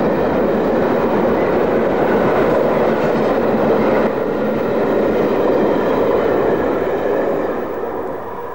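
LNER V2 steam locomotive and its train passing on the rails, a continuous loud rumbling roar of wheels and carriages that holds steady before easing off at the end.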